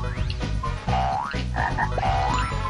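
A cartoonish frog croaks in the video game Glover, with repeated rising and warbling croaks over looping game music and effects, loud and close.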